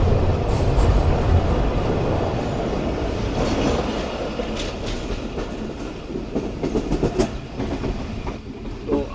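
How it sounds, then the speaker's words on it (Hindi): The Sukkur Express crosses the Ayub Bridge with a loud, steady rumble and rattle of wheels on the rails, rising into sharper clanks and metallic clatter toward the end, with no voices. "जिस पर से इस वक्त ट्रेन गुजर रही है ये अयूब ब्रिज है"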